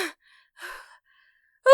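An armored merfolk pants for breath, giving a few short, close, breathy gasps separated by silence, with a voiced sound at the end.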